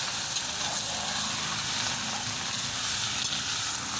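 Meat hits a hot pan and sizzles loudly, a dense, continuous crackling hiss of frying that stays steady throughout with no talking.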